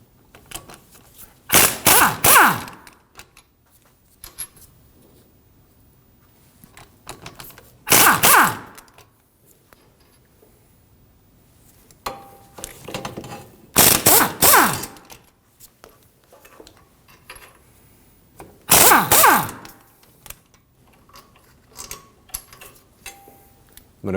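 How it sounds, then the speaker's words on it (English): Four bursts of rapid ratchet clicking as a ratchet with a swivel socket on an extension backs out 14mm hub bolts on a Subaru XV Crosstrek knuckle, each burst a few seconds long, separated by quiet pauses. "Now we'll remove the four 14mm bolts from the back of the knuckle holding the hub on."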